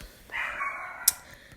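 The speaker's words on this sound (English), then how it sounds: "please ignore my dog barking his life out" A pet dog indoors gives a short bark, a single sharp yelp followed by a brief higher yip, fairly close and loud against a quiet room with no voices.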